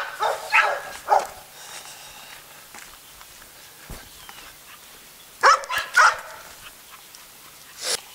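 A pack of rescued dogs, seventeen at its core, barks in several sharp bursts: a couple early on, a louder cluster around the middle, and one more at the end, with quieter shuffling between them.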